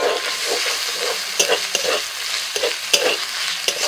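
Chopped tomato frying with ginger-garlic-chili paste in a wok, loud steady sizzling broken by repeated spatula scrapes and stirring knocks at an uneven rhythm, close and without talk.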